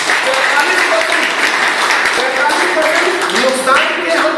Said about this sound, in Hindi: एक बार गर्व से ताली बजाइए